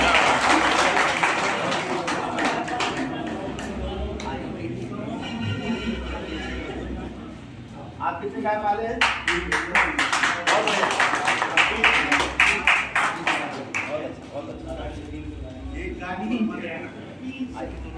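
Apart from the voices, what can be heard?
audience applause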